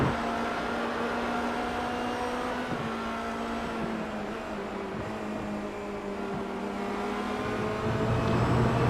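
Formula Renault race car engine in the iRacing sim at Road America, a steady, droning high-revving whine that holds on through the lap, with brief dips at gear changes and no talk over it.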